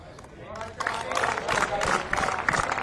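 Crowd applause at a men's singles tennis final as the two finalists walk out onto court, a dense, steady clapping that swells and holds strong with some crowd noise mixed in.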